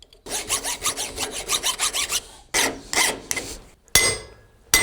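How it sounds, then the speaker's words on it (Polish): A chainsaw chain file rasps against metal on an old barn jack, in quick rhythmic strokes that then slow into a few longer separate scrapes, close and fairly loud, with a metallic tap near the end. "O, tu mam pilnik od prowadnika do piły."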